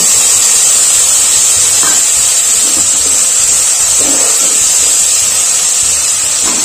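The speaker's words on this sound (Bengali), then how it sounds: "এবার মশলার জলটা দিয়ে দিচ্ছি" Spiced water hits hot oil in a pan for a village wedding-style fish jhalda, producing a loud, continuous steam hiss and sizzle that stays steady and close throughout, with no voices.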